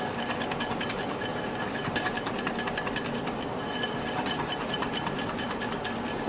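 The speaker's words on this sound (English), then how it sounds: "we're going to give this a nice whisk" A whisk beats quickly against a bowl, mixing a meatloaf mixture with Worcestershire sauce, in a steady, close, continuous rattling rhythm with no talk.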